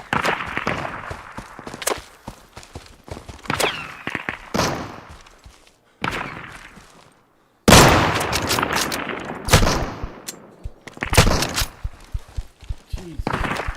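Shotgun gunfire in the Deadside survival shooter game: repeated loud, sharp blasts in irregular bursts with echoing tails, mixed with thuds and footsteps, brief silence midway, no clear talk.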